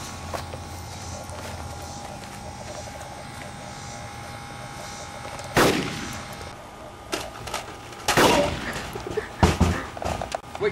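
Machine gun fire in a war video game set in a battle for a hill, with sharp bursts of shots breaking over a low steady hum, heard as separate loud blasts spaced out across the span.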